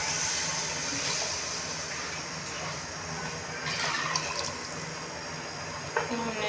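Gram flour mixed into lassi is poured into a pot while making kadhi pakora, a steady liquid rush that runs continuously at close range with a few faint clinks near the end.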